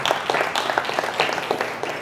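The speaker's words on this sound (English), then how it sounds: "give yourselves a round of applause also for being in this room" A live audience in Toronto claps, dense, continuous applause of many hands, close and fairly loud, alone without talk.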